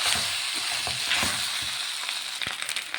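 Cooked broken wheat being stirred and mixed in a pan for upma, with a loud crackling sizzle and scraping stirs across a short stretch and no talking.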